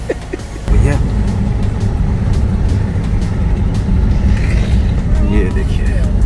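Heavy car traffic crowds a monsoon road-trip route, a steady dense rumble of engines and passing vehicles from close by, with voices talking over it.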